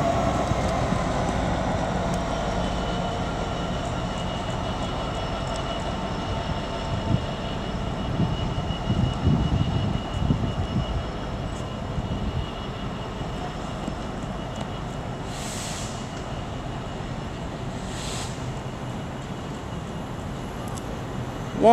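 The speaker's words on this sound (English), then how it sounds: "we've also got coming in the 1354 cross country service from Stansted Airport to Birmingham New Street" A CrossCountry service from Stansted Airport to Birmingham New Street pulls into Peterborough station on the East Coast Main Line, a steady broad rumble of train and station noise running throughout, with a couple of brief high squeals partway through.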